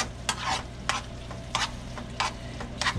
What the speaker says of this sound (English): Alright, just simmer in the mixture with the teriyaki sauce.